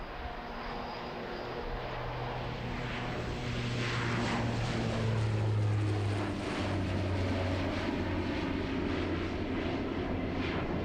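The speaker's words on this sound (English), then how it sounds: "It has the same engines that the Hercules has, except that there are only 2 of them." A twin-engine turboprop military transport plane, with the same engines as the Hercules, passes at the RIAT 2003 air show, giving a loud, building propeller roar and engine drone that swells and shifts in pitch as it goes by.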